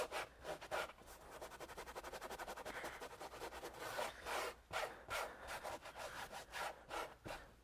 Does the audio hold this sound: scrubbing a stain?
yes